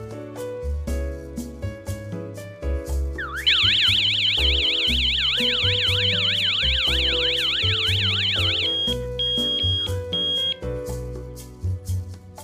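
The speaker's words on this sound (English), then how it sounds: "When the main unit alarms, the siren will also alarm." A burglar alarm siren wails in a rapid rising-and-falling warble for about five seconds over background music, followed by several short electronic beeps.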